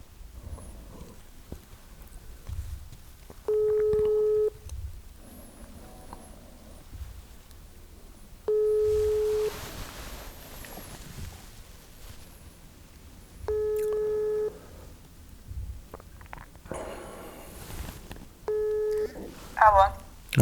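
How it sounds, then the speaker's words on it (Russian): Telephone ringback tones play while a call is placed, with four evenly spaced tonal beeps about five seconds apart and someone talking quietly between them. "я звоню сейчас Татьяне."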